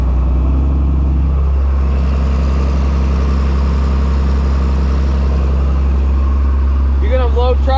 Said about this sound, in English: So they actually pumped manure from their upper pit, liquid, down into here, and as you see, we're just loading,